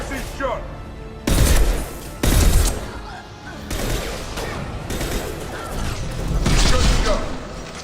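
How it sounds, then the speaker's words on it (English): Concussive Shot ability firing in the Mass Effect 2 video game, heard as loud, punchy blasts in bursts, with heavy low-end impacts repeating among ongoing combat noise. "Firing concussive shot!"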